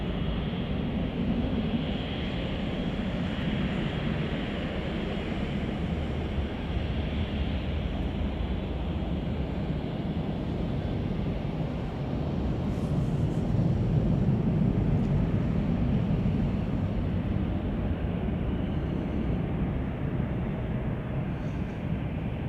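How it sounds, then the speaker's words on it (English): Western Global cargo plane departing Chicago O'Hare, a distant, steady jet rumble that holds throughout with little change, no voices. "this is Western Global Flight 4870 off to Tokyo Narita"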